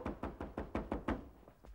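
Police knocking on a door, about eight heavy rhythmic thumps in steady succession, loud and close, the last blows a little weaker.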